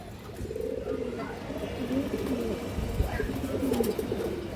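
Pigeons coo steadily in a loft of fancy breeds such as Mushaldom, a low rolling murmur running through the clip under faint background noise.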